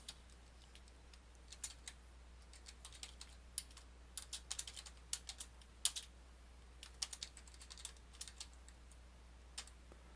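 Faint, close typing on a computer keyboard while writing Java code comments, with irregular light key clicks and short runs of taps over a low steady hum.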